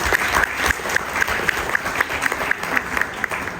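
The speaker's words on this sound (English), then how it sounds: "I would like you all to give a big round of applause for the organizing team." A conference audience gives a round of applause for the organizing team, dense, steady clapping from many hands with crisp individual claps close by, filling the short moment.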